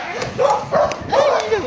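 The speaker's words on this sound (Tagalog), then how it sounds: "Ay, may aso." A dog barking on a trail walk in north Caloocan, a few short, close barks and yips in quick succession, fairly loud and clear.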